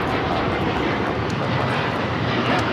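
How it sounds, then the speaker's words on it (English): United Airlines Boeing 787-9 Dreamliner taking off at LAX, a loud broadband jet roar that stays steady and close for the short span, with no voices. "This is United Airlines Flight 198 taking off to Shanghai on the 787-9 Dreamliner."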